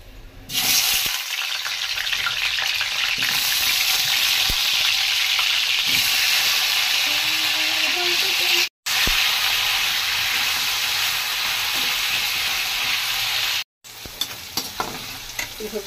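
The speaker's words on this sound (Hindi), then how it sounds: "ये सब्जी मेरी सारी फ्राई हो गई है।" Vegetables frying in a pan with onion, garlic and ginger, a loud continuous hissing sizzle with scattered stirring clatter, broken by two brief silent cuts, no speech.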